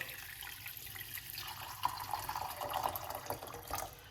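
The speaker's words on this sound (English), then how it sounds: "I'm going to pour some hot water" Hot water pours over bay leaves for tea in a continuous soft splashing stream, fairly quiet and steady, with no talking.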